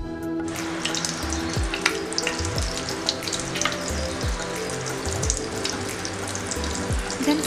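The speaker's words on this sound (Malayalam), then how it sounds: "ബട്ടർ നന്നായിട്ട് മെൽറ്റ് ആക്കുക" Butter melting with coconut oil in a hot pan for restaurant-style paneer butter masala, a steady close sizzle and crackle continuing throughout with no talking.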